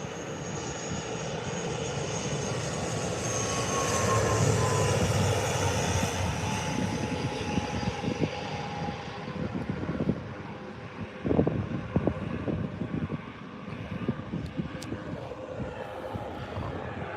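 A loud jet engine roars steadily as an airplane takes off from Lanzarote Airport, the rumble swelling and then slowly fading into the distance, with wind buffeting the microphone.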